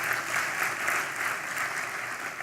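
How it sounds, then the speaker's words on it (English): A crowd at the Manatee Chamber's 56th annual dinner claps steadily in a sustained, moderately loud round of applause with no break. "I have to give them a round of applause."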